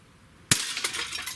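A small PVC target shatters when struck by a shot from a Smith & Wesson CO2 pistol: one sharp close crack followed by a brief scatter of tinkling fragments.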